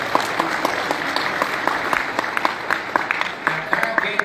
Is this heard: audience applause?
yes